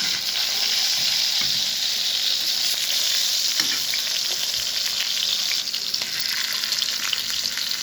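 Broccoli, cauliflower, carrot and onion go into a pot of pork chops, setting off a loud, continuous hiss of sizzling that stays constant throughout, with no talking.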